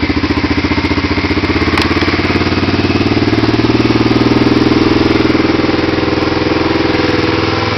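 A 1986 Honda ATC 250SX three-wheeler engine runs right after being kick-started, a loud, close, steady rapid putter at idle with a dense mechanical clatter throughout and no voices.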